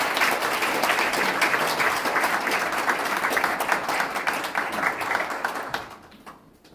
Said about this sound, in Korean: 큰 박수 받으십시오.